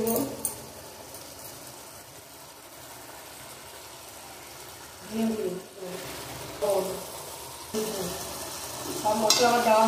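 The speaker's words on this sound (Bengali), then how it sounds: "এখন বেশ কিছুক্ষণ কষাবো, যতক্ষণ না তেল ছাড়ছে।" Spice paste of green and dry chillies, tomato and onion with ground cumin being stir-fried in oil in a pan for rohu fish curry, a steady low sizzle with scraping stirs that grow louder toward the end.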